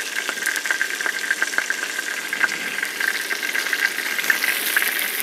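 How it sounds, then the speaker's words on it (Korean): Pork belly stir-frying in a pan at an autumn car-camping site, a steady close sizzle and crackle with spattering pops running throughout, loud and without talk. "제가 맛있게 한번 볶아볼게요."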